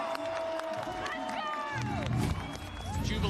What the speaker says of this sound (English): Jubilation from the crowd as Fnatic have roared their way back into this